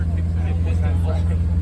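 A high-revving car engine at about 5,000 RPM, held steady and loud close by with a strong low drone, at a collector car auction.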